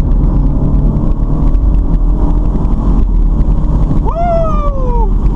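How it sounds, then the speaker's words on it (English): BMW Z4 with automatic gearbox accelerating, steady loud engine and road roar under heavy wind buffeting, then a sharp rising engine note that drops away as the gearbox upshifts near the end. "Upshifts."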